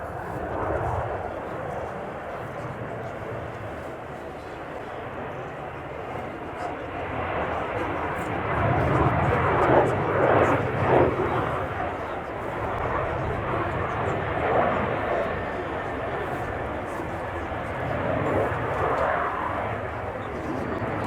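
A Royal Air Force F-35B Lightning jet roars through a flying display, its engine noise rising into a broad, rumbling swell mid-pass before easing off, with a commentator speaking over the sound.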